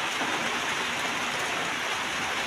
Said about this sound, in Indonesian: Tuh, hujannya kayak gini, memang nggak begitu deras banget, tapi ya lumayan basah lah ya